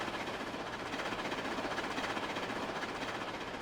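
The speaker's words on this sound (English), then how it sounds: "Ellie, I think the scrap train forgot to load." A steady, dense rumble of a moving scrap train fills the whole stretch, continuous and fairly loud with a faint rhythmic clatter underneath.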